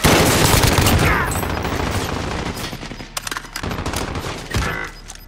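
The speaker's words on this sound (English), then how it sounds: "Oh, so his mate shooting at me." Gunfire in Call of Duty: Modern Warfare, with dense, loud automatic bursts and rapid shots that rattle almost continuously, then taper into a few separate cracks and a final burst.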